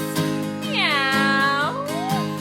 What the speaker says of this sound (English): Let me hear those kitty cat meows.